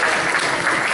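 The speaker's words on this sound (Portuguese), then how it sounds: "Aplausos para a dona Silvia" A studio audience at a magic show applauds a guest, Dona Silvia, with a steady, dense wash of many hands clapping close and loud for the whole second, no voices rising above it.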